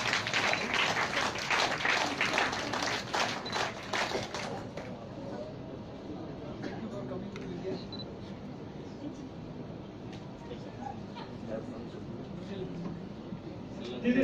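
An audience of girl guides and rangers at a centenary rangering event applauds, a dense patter of clapping that lasts about four seconds and then gives way to a murmuring crowd and scattered noise.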